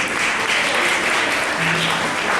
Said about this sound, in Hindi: लिए तालियां बजाएं